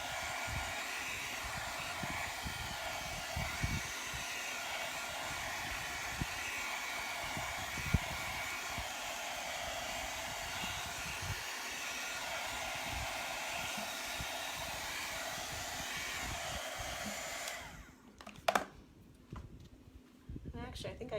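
A hair dryer blows on freshly applied chalk paint with a constant, close whooshing roar that holds steady for a long stretch. It then cuts out near the end, leaving a few faint knocks and handling sounds.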